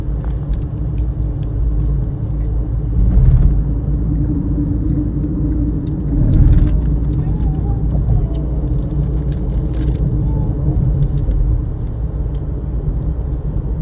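A car cruising at about 100 km/h across the Atal Setu sea bridge in Mumbai, its steady low road rumble and engine hum filling the cabin, with a few brief swells in the noise.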